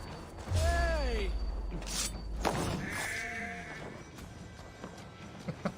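A sheep in the video game Assassin's Creed Valhalla bleats twice in a wavering, drawn-out call over a low background hum, with faint voices and a few clicks around it.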